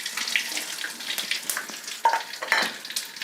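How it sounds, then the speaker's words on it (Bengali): Panch phoron spices, with cumin, crackle and hiss in hot oil in a pan, a busy, bright sizzle with small pops and a couple of louder spits. "তো 5 ফোড়নগুলো আমি সুন্দর করে একটু ভেজে নেব।"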